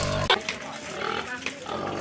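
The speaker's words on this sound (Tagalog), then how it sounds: "O magkakarga na baboy." Pig squealing as it is loaded at a rural provincial wedding preparation, loud, harsh cries running throughout the short span, with people talking in the background.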